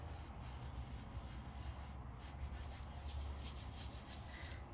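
A fingertip gently rubbing glitter onto a tacky stencilled surface gives a soft, steady, faint scratchy rub that continues alone throughout.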